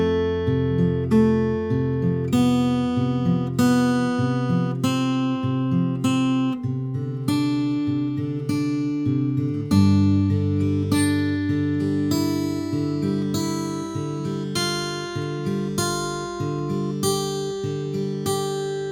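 Acoustic guitar fingerpicks the pre-chorus of a song, a continuous flow of plucked, ringing notes and string chunks in an even rhythm, close and clear, with no voices.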